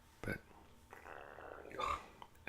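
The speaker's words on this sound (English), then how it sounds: "every time I do one of these, it's like I have to burp" A soft, low burp rises and fades over about a second, set between quiet spoken words in a hushed indoor setting.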